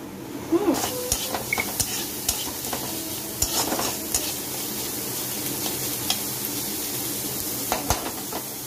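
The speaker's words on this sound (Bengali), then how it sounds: "এই পেঁয়াজগুলো আমি এর মধ্যে দিচ্ছি, এটাকে ভালো করে আমি ফ্রাই করে নিচ্ছি" Onions frying in a pan, a soft continuous sizzle broken by stirring scrapes and light clinks of a utensil against the pan, close and moderate in level.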